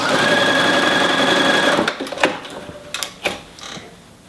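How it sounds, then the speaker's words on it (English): A sewing machine stitches a quilt binding seam with a steady, rapid whirring hum for nearly two seconds, then stops; a few sharp clicks and handling knocks follow in the quiet. "And I put this through the machine, and I use a standard 1/4 inch seam allowance."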